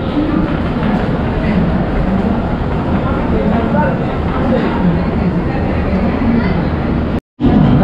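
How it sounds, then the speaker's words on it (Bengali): Purba Express train running after departing New Delhi, a steady loud rumble of the carriage in motion that fills the whole stretch, with a brief cut near the end. "আমাদের ট্রেন ঠিকঠাক টাইমে ছেড়ে দিয়েছে নিউ দিল্লি থেকে।"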